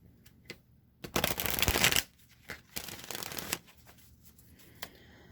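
Oracle cards shuffled in a few quick riffling bursts, one long flurry followed by shorter ones and a few soft taps, close up and fairly quiet.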